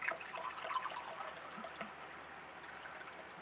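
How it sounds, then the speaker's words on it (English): Water gurgles softly from a gurgle pot in a few faint, irregular bubbling trickles, quiet and close with no talking. "Okay, so this is my gurgle pot,"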